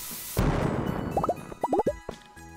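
A sudden bomb blast in Stardew Valley booms out, then rumbles away under a scatter of quick bubbly pops and blips.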